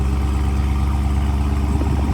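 A 2017 Dodge Charger RT Scat Pack with the 392 V8 idles through its stock exhaust, a loud, deep, steady burble close by with no voices.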